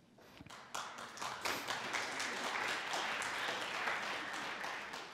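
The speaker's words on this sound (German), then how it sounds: "Applaus" An audience at a Green party list-candidate speech claps, a sustained, moderately loud round of applause that swells and then eases off over several seconds.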